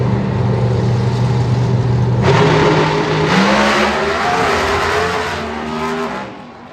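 A drag race car launches and accelerates at a drag strip, its engine note climbing in loud, rising sweeps through several gear changes, close and dominant with no talk over it.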